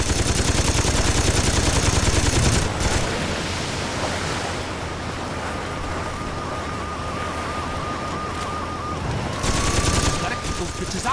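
Dense, continuous gunfire in Saints Row 2 during an escape: a thick, roaring wall of rapid shots with a low engine-like drone underneath, steady and loud throughout, with a rising whine near the end.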